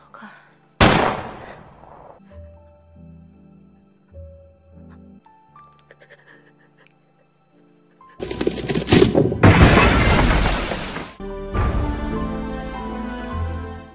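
Gunshots fired by a school principal in a film: a sharp loud blast near the start, then a dense cluster of heavy booming shots later, set against a backdrop of soft music.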